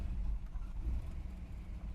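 A 1957 Mercury Monterey's V8 runs at a low, steady idle close by as the transmission is shifted into drive, with a continuous deep rumble and no talk.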